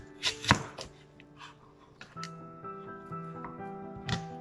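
A kitchen knife chops through an onion on a cutting board, one sharp loud thunk near the start, then lighter scattered taps and a final cut, close by with no talk.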